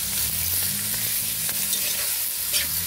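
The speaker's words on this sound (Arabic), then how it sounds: "نقلب فيهم هكذا حوالي 10 دقائق فقط" Garlic and parsley stirred as they cook in a pot for olive tagine, a dense continuous sizzle with soft scraping turns of the spoon, close and fairly loud, no voices.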